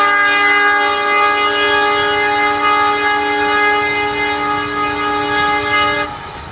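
A train's horn blares loud and close for about six seconds, a steady multi-tone chord cutting off abruptly, on a busy railway line running through elephant habitat near Guwahati.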